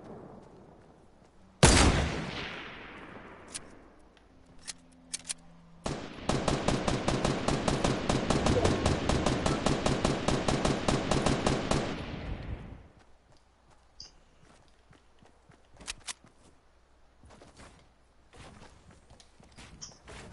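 Gunfire aimed at a wall in Fortnite: a sharp blast, a few scattered single shots, then a long rapid automatic burst lasting about six seconds, followed by quieter sporadic clicks and steps.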